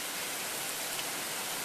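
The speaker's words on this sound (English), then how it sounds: "It's rain, huh?" Rain pouring down during a hail storm in Tucson, a dense, even hiss of falling water heard steadily and fairly faintly throughout.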